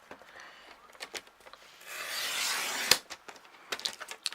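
Paper being cut for a handmade mini album: a few light taps and rustles, then a smooth two-second slicing swish, a sharp click, and more soft handling, all quiet and close.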